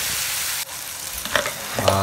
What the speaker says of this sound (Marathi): टोमॅटो चांगल्या प्रकारे नरम होईपर्यंत त्यात शिजवणार आहोत।